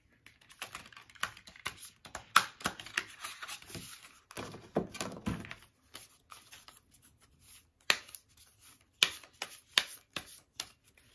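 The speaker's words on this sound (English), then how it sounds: "Every time I try and like shuffle these cards" Crisp riffling and slapping of tarot cards being shuffled in quick bursts, with short pauses between rounds, close and fairly quiet.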